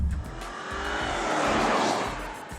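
A Mercedes-Benz S-Class engine revs hard and surges forward as it kicks down a gear, a steady roaring rise in pitch with a low rumble beneath, close and fairly loud.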